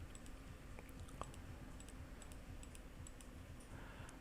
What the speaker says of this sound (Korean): 지금 간 상태에서 스페이스바를 누르고요